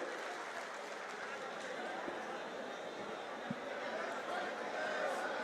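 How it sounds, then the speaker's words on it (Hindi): A crowd at a farmers' rally in Ujjain claps steadily throughout, a dense wash of applause heard from within the gathering, with no clear voice rising above it. "जोरदार ताली बजाकर आप सब लोग अभिवादन करें।"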